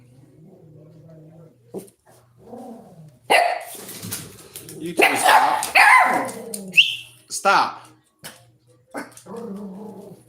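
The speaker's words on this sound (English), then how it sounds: "What are you barking at?" Dogs bark and growl in short bursts close by while a person talks sharply over them; a brief birdlike chirp cuts through midway.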